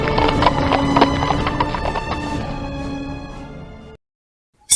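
Horse hooves clip-clop in a steady, rhythmic clatter for about four seconds before falling silent, a close and clear hoofbeat sound effect.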